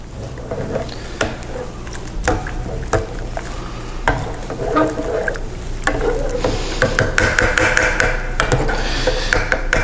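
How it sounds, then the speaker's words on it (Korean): Doenjang soybean paste being stirred into a pot of stew with a ladle, a dense run of tapping, scraping and clinking strokes against the pot, steady and close throughout. "된장을 넣어 주시고 국자로 잘 풀어 주시면 됩니다"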